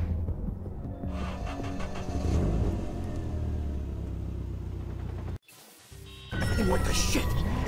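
A damaged car in the video game Watch Dogs rumbles and revs as it is driven, the engine noise steady and loud, briefly dropping out before surging again, with characters talking over it.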